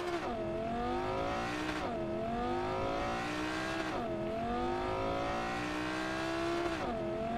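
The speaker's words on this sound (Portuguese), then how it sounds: "Que carro pra fazer barulho, cara." A car engine in the video game Cyberpunk 2077 revs up repeatedly, rising in pitch, dropping back, then climbing again in a loud, steady cycle.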